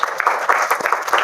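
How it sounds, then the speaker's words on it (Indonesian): Children in a classroom clap together in a quick, uneven burst of applause, fairly close and loud, with a few voices mixed in. "tepuk tangan sekali lagi"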